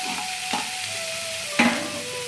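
Chopped onions and tomatoes sautéing in a pan, with a steady soft sizzle and two spoon scrapes close by.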